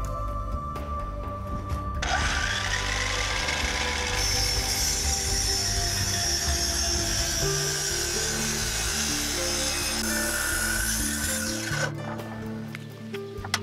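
A miter saw cuts a 60-degree angle in a 2x6 board, a loud, continuous whining and rasping cut of about ten seconds over the motor's steady hum.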